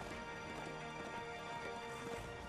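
Horse hooves galloping in the video game Darksiders II, a steady run of clip-clop beats over dense game music, fairly faint.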